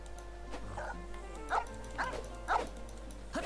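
A dog in Genshin Impact gives a run of short yips and barks, about one every half second, over steady game background music.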